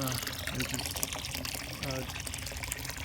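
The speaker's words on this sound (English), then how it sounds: "flows down like that to create the sound of water" Water pours and trickles steadily into a stock tank goldfish pond in Texas, a continuous splashing flow with a person talking over it.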